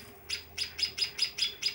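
Lovebirds chirping in a steady series of seven sharp, evenly spaced high calls, close and clear against a quiet background.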